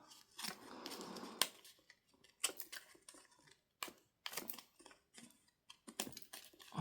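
A small distressing tool scrapes along the edges of paper tags for a junk journal, giving bursts of dry, rasping scratches that stop and start, close and fairly loud, with no voices.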